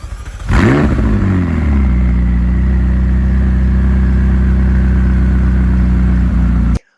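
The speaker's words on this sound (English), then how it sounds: "starting the car up is like nothing I have ever experienced before" A McLaren 600LT supercar engine cranks and fires at once into a loud, deep idle that rumbles steadily for several seconds before cutting off abruptly.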